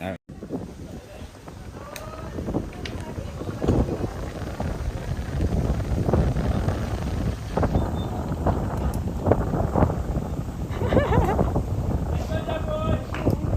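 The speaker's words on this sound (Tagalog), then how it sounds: "Mahangin pa." Wind buffets the microphone in an open outdoor space at The Plunge in Danao, Bohol, steady and blustery, with faint scattered voices and occasional sharp knocks.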